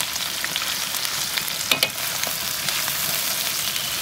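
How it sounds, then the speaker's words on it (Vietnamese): Small shrimp deep-frying in hot oil until crispy, a steady close crackling sizzle with scattered pops and a brief louder burst of spattering, no voices. "là chiên giòn nha cả nhà."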